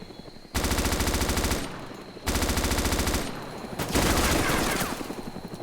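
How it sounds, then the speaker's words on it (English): Automatic gunfire in the game Arma 2 DayZ mod fires loud, close bursts as warning shots: two sustained rapid volleys of about a second each, then a longer, noisier third burst. "I'm gonna fire some warning shots to see if it'll leave me alone"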